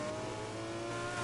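Nissan 370Z engine in the racing game Need for Speed Heat, a steady sustained drone with a constant pitch that fills the whole brief moment, close and continuous, with no talking.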